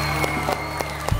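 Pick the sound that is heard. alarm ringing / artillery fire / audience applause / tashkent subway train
audience applause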